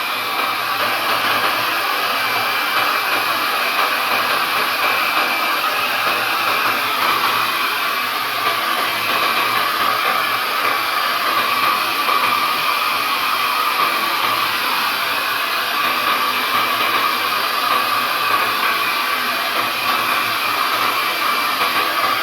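A hair dryer blows steadily onto a watercolour painting of fishing boats, giving a constant, loud, even whir that continues unbroken with no talking over it.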